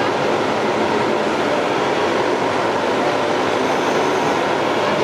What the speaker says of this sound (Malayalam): ഇത് നമ്മുടെ സ്റ്റീം എഞ്ചിൻ ട്രെയിൻ